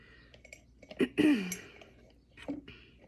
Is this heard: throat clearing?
yes